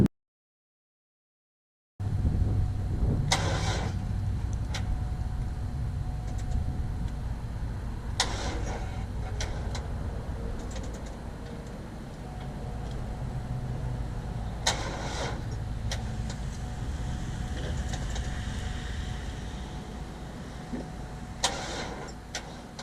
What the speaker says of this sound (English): Brand new car, not starting.